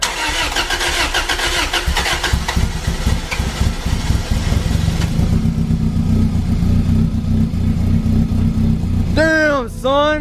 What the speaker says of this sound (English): I want to hear the exhaust.